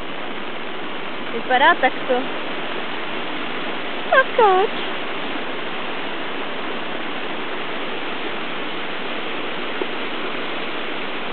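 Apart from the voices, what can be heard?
small creek rushing during a flood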